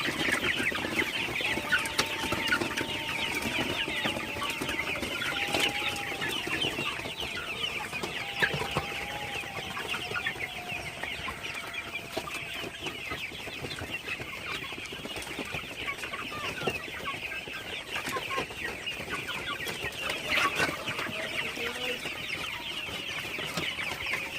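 A flock of golden super hybrid chickens clucks and murmurs continuously at night over a low, steady background hum, with occasional louder calls standing out.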